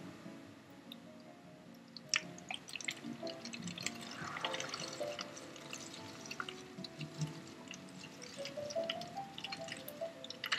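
Liquid poured into a fermenting coffee soda, a soft, close trickle with scattered drips and splashes, quiet throughout with no talking.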